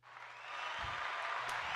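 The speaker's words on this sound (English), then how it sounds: "Let me get the claps ready." A crowd's applause sound effect swells in quickly and holds as dense, continuous clapping, fairly loud and with no voices over it.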